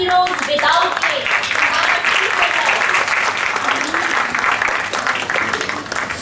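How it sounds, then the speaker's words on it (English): A hall audience at a Mother's Day event breaks into loud, sustained applause that fills the room evenly, with some vocal sound mixed in at the start. "A big round of applause for the superheroes without faith"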